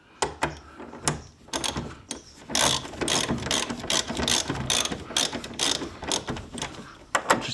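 Ratchet clicking in quick bursts while tightening new nylock nuts on the rear suspension of a Fiat Panda 4x4, close and crisp with short pauses between strokes.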